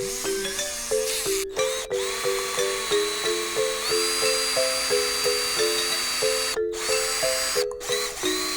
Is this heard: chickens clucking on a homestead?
no